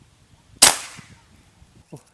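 One sharp, loud air rifle shot cracks and rings out briefly during an accuracy test, with faint low murmuring and a soft knock afterward.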